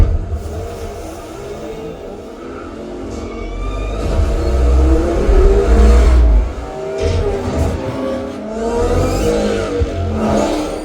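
A car drives through a scene of the Ready Player One movie soundtrack, with engine revving and whooshing passes rising and falling over a rumbling, busy cinematic mix, loud throughout.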